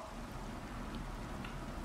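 Steady rain falling in the video game Minecraft, an even, moderately quiet hiss of drops with no breaks and no voices.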